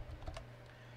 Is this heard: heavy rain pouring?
no